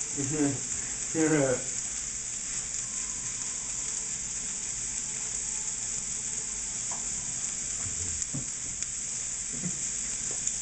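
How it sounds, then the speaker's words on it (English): Vegetables sauté in a pan for pasta primavera, giving a steady, close hiss of frying that runs throughout. A voice cuts in briefly near the start, and faint clinks sound later. "Sauteing the veggies."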